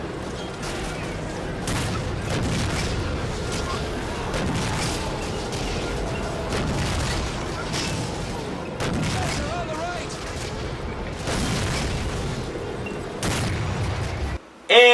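Tank cannon booms and sustained gunfire in Medal of Honor: Allied Assault Spearhead, a dense wartime video game battle with repeated loud blasts over a constant crackle of shots.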